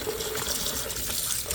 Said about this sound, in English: I'm just going to cover them in water, put the lid on them